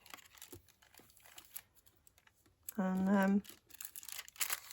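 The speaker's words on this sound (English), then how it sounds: "So I'll rip out the glassine" Thin glassine paper tears and crinkles out of a vintage book in close, scratchy bursts, with a brief spoken word and a short voiced sound midway.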